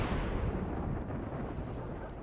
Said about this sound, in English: a flash storm strikes the desert, and not too far away from our base either